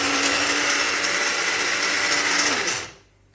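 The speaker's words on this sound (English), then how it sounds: "what is in this is tomato, scallion, onion, and garlic, and we're gonna just blend that up" Kitchen blender whirring loudly and steadily as it purées tomato, scallion, onion and garlic for homemade pizza sauce, running about two and a half seconds before cutting off and spinning down into quiet.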